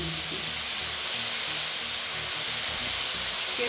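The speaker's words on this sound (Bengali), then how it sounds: "এখানে আমি এখন পাকা কপিগুলি অ্যাড করে দিচ্ছি।" Cabbage sizzles in a hot pan with carrot and papaya for a Chinese-style chicken vegetable curry, giving a loud, steady, close hiss that fills the whole stretch with no talking.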